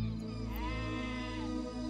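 A sheep bleats in the video game Black and White, a drawn-out wavering cry that is close and clear over faint game background, with no talking.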